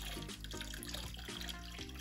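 Water runs steadily from a tap during a tropical fish tank water change, a continuous close rush and splash with faint gurgles throughout.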